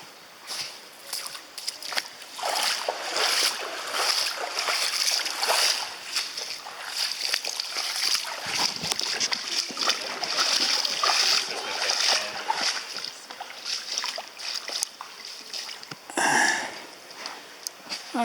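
Repeated splashing and sloshing as someone wades steadily through knee-deep water in a creek tunnel, close by, with rhythmic surges of water around each step.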